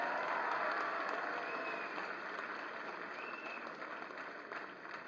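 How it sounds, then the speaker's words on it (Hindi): Audience applause fills a hall at a ceremony honouring Paris 2024 Olympic and Paralympic medal winners, a dense sustained clapping that slowly fades slightly over several seconds. "तालियां बजती रहें"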